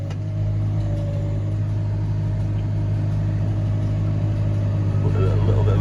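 Tractor engine driving a haylage baler as it wraps a bale, a steady low diesel drone with a constant mechanical hum, loud and close, holding evenly throughout with slight swells in load.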